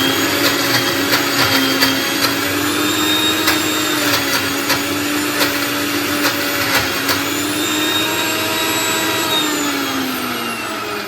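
A kitchen blender grinding almonds with milk for a badam shake runs in a steady, loud, whining motor drone with a wavering pitch and faint rattling, continuing alone without a break.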